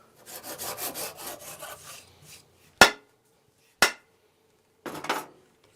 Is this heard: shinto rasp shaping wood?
yes